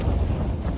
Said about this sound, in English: The noise like that there, that gust there, definitely above 40 mile an hour now